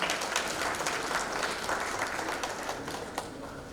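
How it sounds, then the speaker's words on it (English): A crowd applauding steadily at an awards ceremony, a dense patter of many hands clapping that tapers slightly toward the end. "Let's give a huge round of applause to her."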